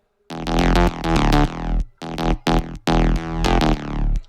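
A mid-tempo electronic beat made in FL Studio, played dry without reverb automation: loud layered synth stabs and heavy low hits in tight, clipped bursts with short silent gaps between phrases.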